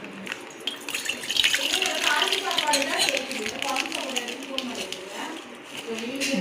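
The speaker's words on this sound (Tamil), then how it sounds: "இப்போ வந்து இதில் வந்து பால் ஊற்றிக்கணும்." Milk pours into a bowl while making a dessert with sugar, biscuits, chocolate and eggs, a soft continuous liquid trickle running beneath steady talk nearby.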